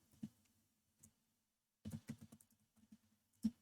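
Code being typed on a computer keyboard in a quiet room, with scattered close key clicks in short bursts separated by pauses, then a quicker flurry of taps and one firmer keystroke near the end.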